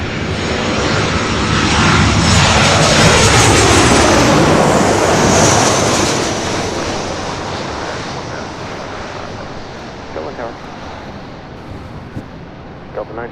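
A passenger jet airliner passing at LAX, a loud roaring rush that swells over several seconds and then fades into a distant rumble, with faint voices and small clicks near the end.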